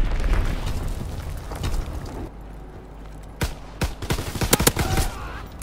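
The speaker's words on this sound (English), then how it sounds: "Dropping Azon bomb." Azon bomb explosions and gunfire in the WWII shooter Call of Duty WW2, multiplayer on the Shipment map: dense distant rumbling fire, then a few sharp, loud booming blasts in quick succession.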